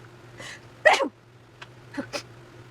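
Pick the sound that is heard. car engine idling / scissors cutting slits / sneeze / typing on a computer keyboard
sneeze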